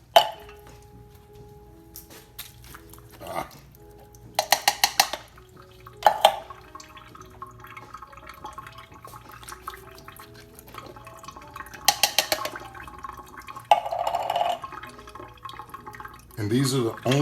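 Canned kidney and pinto beans rinsed under running water in a kitchen, with short splashing bursts of tap water and clinks between stretches of a person talking.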